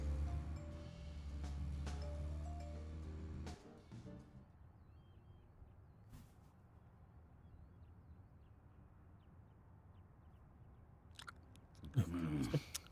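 Chewing in the Deadly Premonition video game: wet, crunchy bites that are fairly loud for the first few seconds, then a quiet stretch, with a short burst of sound near the end.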